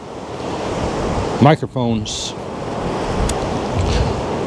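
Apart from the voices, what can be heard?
wind blowing into microphone outdoors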